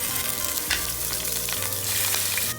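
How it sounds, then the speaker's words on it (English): Meat browning in hot oil in a pot for ramen, a continuous loud close sizzle with occasional stirring scrapes and spatters. "Brown the meat on all sides."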